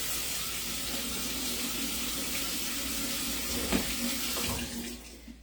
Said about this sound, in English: put them in the sink and run them under cold water